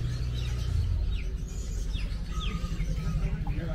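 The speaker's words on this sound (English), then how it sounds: "So one they find here, this market as the bird market." Many caged birds chirp and tweet at an Indonesian bird market, quick scattered calls layered over a busy crowd murmur and low background noise.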